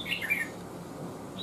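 Red-whiskered bulbul, a lân-coloured chào mào in moult, gives a couple of short bright squawking calls near the start, then a faint high chirp at the end, over low background hum.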